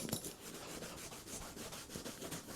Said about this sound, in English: The heat from your hand and the friction helps the balm go into the actual grain of the leather.